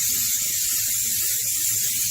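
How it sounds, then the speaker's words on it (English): Butter-flavored cooking spray hisses steadily onto the bottom of a baking pan for a cheesecake bake, one continuous close, loud aerosol stream with no pauses or talk. "You also want to spray the bottom of your pan that you're going to use with the butter cooking spray."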